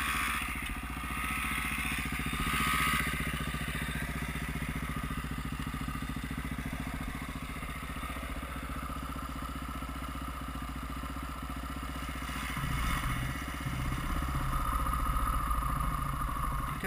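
A small motorcycle engine idles steadily close by, then is given gas near the end, its buzzing note rising briefly with a clattering mechanical edge.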